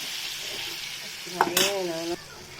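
Ginger-garlic paste frying in oil gives a steady, fairly quiet hiss, then a short burst of scraping clatter with a brief tonal squeal before the sizzle settles again.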